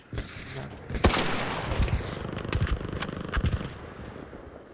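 Bursts of rapid gunfire in the video game Arc Raiders crack out in quick clusters, sharp and loud, with scattered single shots trailing off over a continuous background din.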